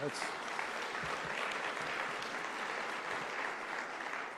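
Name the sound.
applause for the Attorney General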